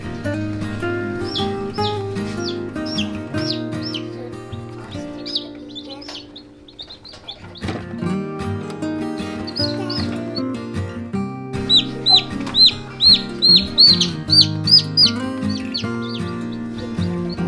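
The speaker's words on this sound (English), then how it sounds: "We have 3 of the new chicks inside the brooder for overnight time." Young chicks in a brooder cheep in repeated high, short peeps. The peeps grow denser and louder toward the end, over a steady tonal background that sounds like music.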